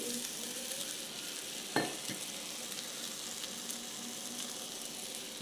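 Eggs go into eggplant bharta frying in oil in a kadai: a soft, steady sizzle, with one sharp splash as they land early on, then the quiet frying continues.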